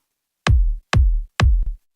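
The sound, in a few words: kick drum sample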